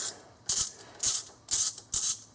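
A socket ratchet backs out water pump bolts on a Dodge Ram 5.7L, four sharp rasping bursts of clicking in an even rhythm, close and clear against a quiet background.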